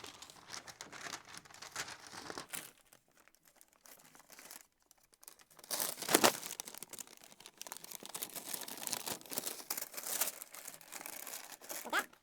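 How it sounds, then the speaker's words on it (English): Material gets crumpled up by hand during an interior painting job, with crackling, crinkling bursts that pause briefly and then grow louder and denser, close by and with no voices. "Kind of crumple it up."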